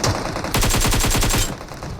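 Rapid automatic rifle fire from a teammate in the mobile battle-royale game PUBG Mobile, a loud, close burst of about a dozen evenly spaced shots lasting roughly a second, with no talk over it.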